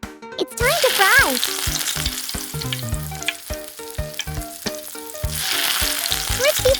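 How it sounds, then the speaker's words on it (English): Marinated chicken thighs coated with egg and cheese fry in hot oil, giving a loud, steady sizzle broken by clinking stirs; a melodic tone rises over it near the start. "It's time to fry."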